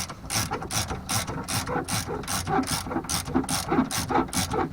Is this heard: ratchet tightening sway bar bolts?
yes